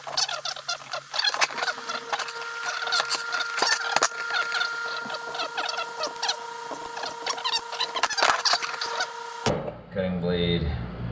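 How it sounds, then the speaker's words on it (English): A Dremel cutting wheel grinds through a leftover bolt on an air-cooled VW stroker engine's dual carburetor spring setup, a steady high whine with a crackling edge running close up for about nine seconds before cutting off abruptly. "I'm going to Dremel cut off the remaining part of this"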